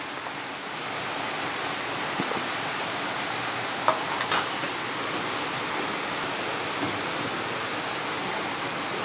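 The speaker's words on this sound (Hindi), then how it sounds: "ये हमारे यहाँ पर बारिश बहुत ज़ोरों में हो रही है" Steady, dense hiss of heavy rain pouring without letup, with a couple of faint clicks partway through.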